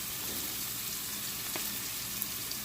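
Shrimp fry in a pan with a soft, steady sizzle and a faint crackling hiss. The sound stays low and even, broken by one or two small pops.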